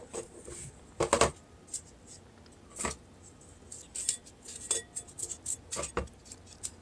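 Pieces of oak bark are dropped and shifted into a deep clay pot for planting a Cattleya orchid, making a run of light, dry clicks and scrapes, close and irregular.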